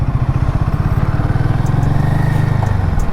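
A Royal Enfield Himalayan 450 motorcycle rides along a road through Bandipur, its engine throbbing in a close, steady low rumble with a faint rattle layered on top, and no one speaking.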